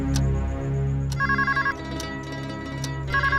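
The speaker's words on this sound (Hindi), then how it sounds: "चलो अब तो फोन आया।" A telephone rings in repeated electronic bursts, a bright warbling ringtone pulsing in short regular groups over a quiet indoor background.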